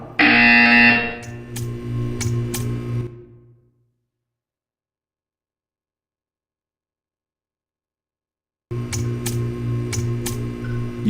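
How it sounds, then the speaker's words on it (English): Buzzer tone in Portal 2 sounding in a test chamber, a loud electronic tone with sharp repeated pulses at the start, then a few seconds of total silence before the hum and pulsing tones return. "When you hear the buzzer, stare at the art."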